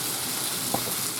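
Honey glazed chicken in a nonstick grill pan gives off a steady, faint sizzle with a soft tick near the middle and no voices.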